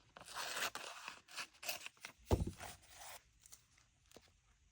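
Scissors cut through paper collected for a poetry collage, giving a few close, quiet snips and rustles in an irregular rhythm with soft paper handling between them.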